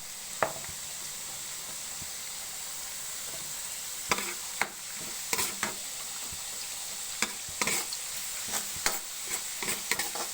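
Hotdogs frying in a pan for a Filipino breakfast, with a steady sizzle and occasional sharp clinks and scrapes of stirring, close and fairly quiet, with no talking.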